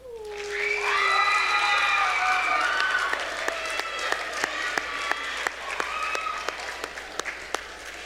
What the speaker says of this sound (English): Let's give all of these wonderful choir students another round of applause.